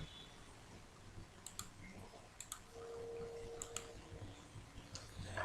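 Computer mouse clicks while working in NX CAD software on sheet metal from a solid, several sharp, faint clicks in scattered pairs over a quiet room hiss, close to the microphone with no talk.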